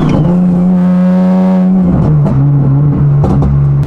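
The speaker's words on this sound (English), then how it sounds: "you can clearly hear there's a very bad exhaust leak that we must fix" A Nissan with a turbo exhaust and a bad exhaust leak revs loudly up close, its engine holding one steady pitch before dropping and wavering through several quick blips, raspy and droning throughout.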